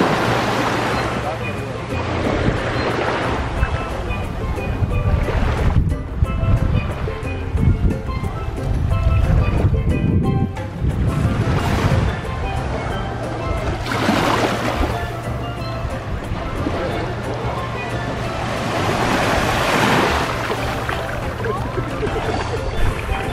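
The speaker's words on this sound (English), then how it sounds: "Walking along this long stretch of beach. 7 miles. In water. 7 mile beach." Waves wash steadily along the sand at Seven Mile Beach, Grand Cayman, a continuous close surf under people chatting as they walk the shore.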